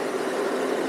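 A BMW R12 café racer motorcycle engine running steadily in third gear at about 6,000 rpm and 120 km/h, a continuous loud buzzing drone mixed with rushing wind noise.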